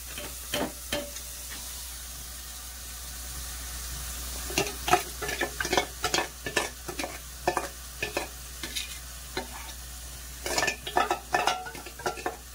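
Onions frying in a pan for a home-cooked Telugu prawn curry, a low steady sizzle broken by repeated close clinks and scrapes of a spoon stirring against the metal, bursts of stirring clustered through the stretch.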